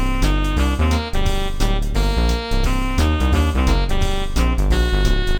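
A self-composed boss theme for Bowser Jr. plays alone, dense and loud with steady rhythmic chords, bass hits and bright melodic lines driving through the whole stretch.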